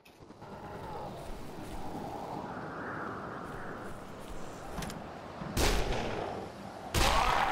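Gunfire in the Dead Island video game, with two sharp loud shots near the end standing out above a steady rumbling game ambience.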